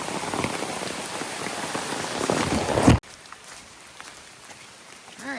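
Rain patters on surfaces along the Appalachian Trail, a loud close hiss of drops that cuts off abruptly, leaving a quieter, sparser drizzle afterward.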